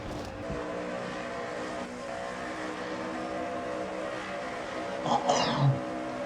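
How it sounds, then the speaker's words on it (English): Race car engine in a racing video game holding a steady high-revving drone at top speed down the Long Pond straightaway, with a brief louder burst near the end. "And he'll go 206 miles an hour at the end of the Long Pond straightaway."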